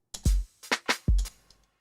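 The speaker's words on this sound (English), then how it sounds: "if I had this snare at full volume, it's going to sound like this" A short, loud, dry drum pattern: sharp snare cracks at full force alternating with deep kick thumps, about five hits in quick succession.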